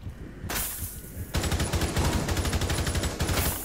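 Rapid bursts of automatic gunfire in Rainbow Six Siege, a few scattered shots first, then a sustained loud rattling volley of rounds in quick rhythm, close and dominant with no talk.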